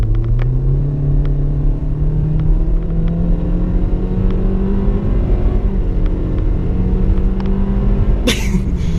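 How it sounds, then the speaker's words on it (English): A 2015 Toyota Corolla base model accelerates hard from a stop toward 60 mph, its engine note rising steadily as a loud continuous drone with road rumble throughout and a brief burst of noise near the end. "I wanted to give you an example of the acceleration"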